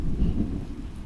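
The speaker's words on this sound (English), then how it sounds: "Outside, the rain has just begun. You hear it first on the roof above you." Rain drums on a riverboat roof as thunder rolls, a dense low rumble with steady patter, brief and fairly loud, with no voices.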